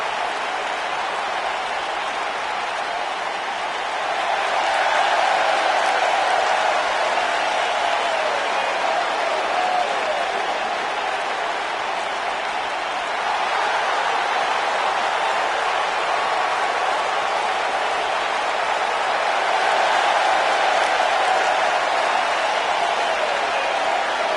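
A wrestling video game arena crowd roars and applauds, a broad, steady wash of cheering that swells in waves, with faint commentary voices underneath.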